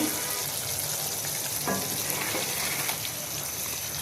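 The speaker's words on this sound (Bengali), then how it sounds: "আমি এখন মাছের তেলটা দিয়ে দিলাম তেলটা দিয়ে বেশ করে আমি এখন ফটে করে নিব" Fish oil frying in a pan with mixed winter vegetables, giving a constant dense sizzle that stays close and loud, with a few soft stirring scrapes and no talk.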